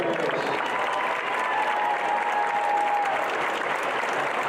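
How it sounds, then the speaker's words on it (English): A crowd at a high school basketball game gives sustained applause for scholarship winners, a dense, even wash of clapping that carries through the whole stretch, with some crowd noise mixed in. "Big round of applause for our scholarship winners."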